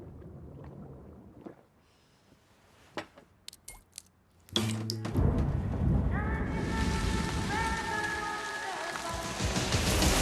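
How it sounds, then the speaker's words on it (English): Heavy rain pours steadily with thunder. Scattered sharp cracks and knocks come first, then a loud rumbling burst of thunder gives way to dense, continuous downpour. "Get out of the rain!"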